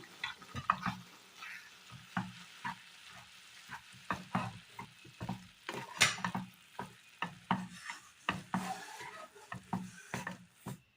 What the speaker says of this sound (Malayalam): തീ ഓഫ് ചെയ്തിട്ട് നന്നായി ഒന്ന് ഇളക്കി കൊടുക്കാം.